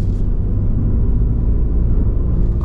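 The rotary engine of a Mazda MX-30 R-EV runs as a generator, charging the battery while the car drives. Heard from the cabin, it gives a steady, loud, low droning hum that holds even throughout.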